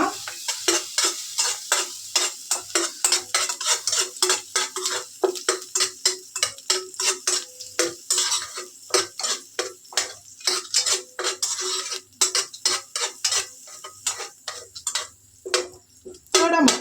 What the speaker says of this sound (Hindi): ನಾವು ಮೊದಲನೇದಾಗಿ ಬಾದಾಮಿ ಮತ್ತು ಗೋಡಂಬಿಯನ್ನು ಹುರ್ಕೊಳ್ಳೋಣ